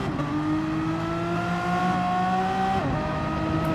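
Renault Megane Trophy race cars in a racing game, several engines droning together with rising and falling tones as they circuit Sardegna, steady and loud throughout with a gear shift near the end.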